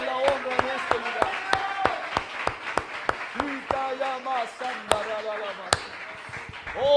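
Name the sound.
hand clapping during a sermon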